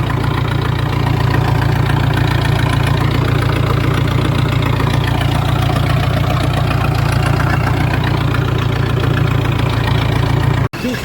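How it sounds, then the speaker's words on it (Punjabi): Tractor engine running in a wheat field during spraying, a loud steady low idling drone with a rhythmic knock that continues unbroken before cutting off abruptly at the end, no voices. "ਟਰੈਕਟਰ ਚਲੇਗਾ"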